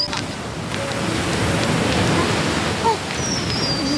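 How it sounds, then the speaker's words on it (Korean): Ocean waves wash onto the shore of Korea's East Sea in a steady, broad surf roar with some wind noise, continuous and fairly loud throughout without speech. "저희 휴가 올 때마다 이렇게 파도 소리 열심히 듣고 갑니다."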